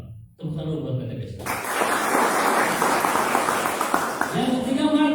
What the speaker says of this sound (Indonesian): Tepuk tangan buat PDBS.